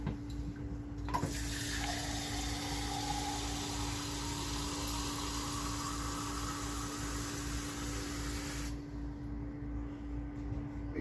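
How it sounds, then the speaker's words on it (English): Tap water runs steadily into a cup in a kitchen while marinara is being made, a continuous splashing rush that starts abruptly, holds for several seconds, then stops, heard close with a faint background hum. "Get yourself a cup and start filling it with water."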